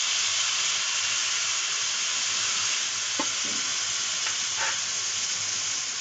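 Red lentils (masoor dal) and potatoes sautéing in a pan for egg tarka, a loud steady close sizzle with a few soft stirring scrapes, no talking.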